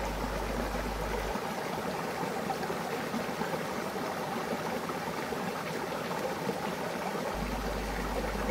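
Small streams trickle and gurgle through an autumn forest in Brittany as a steady, close, broadband rush of running water, alone, with no voices.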